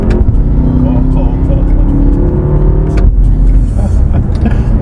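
A BMW F10 M5 engine fitted with a cold air intake revs loudly and close, with a steady throaty roar and a brief dip in the middle, and a voice briefly audible beneath it.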